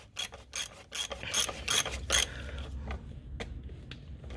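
Oil filter housing on a 2016 Nissan Qashqai being screwed back in by hand during a small service, giving a series of short ratcheting, rasping plastic clicks in quick bursts, close and fairly quiet.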